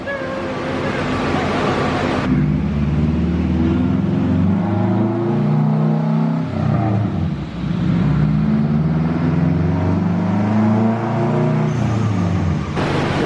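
A 2006 Subaru WRX with 175k miles revs its engine, a loud droning rumble that swells and dips with rising and falling pitch throughout, with voices talking faintly alongside.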